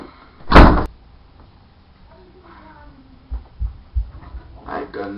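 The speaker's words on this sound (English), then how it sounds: "Close my door." A door shuts with a single loud thud early on, followed by quieter knocks and rustles while people talk nearby.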